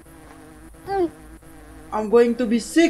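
Swarming bees buzzing in the horror video game Hungry Lamu, a steady insect drone under a speaker's short, excited spoken lines.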